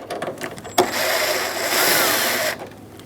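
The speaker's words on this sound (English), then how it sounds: "Using a 7mm socket, remove the 5 screws for the front grille." A power driver with a 7mm socket backs out a front grille screw on a 1988-1999 GMC K1500 pickup, making a steady whirring buzz for about two seconds, close by, after some brief clicks and handling sounds.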